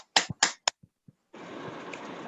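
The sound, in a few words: audience clapping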